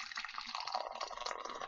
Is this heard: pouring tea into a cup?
yes